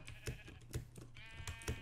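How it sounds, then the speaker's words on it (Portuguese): Sheep bleat in the video game Minecraft, several short repeated bleats close up in quick succession over faint game background sound. "Ali ovelha."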